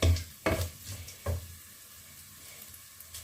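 Chopped garlic sizzling and frying in a hot pan, with a steady crackling hiss and a few louder stirring scrapes near the start.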